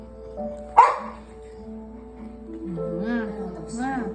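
A dog barks once sharply near the start, with possible whimpers or yips later, while people talk nearby throughout.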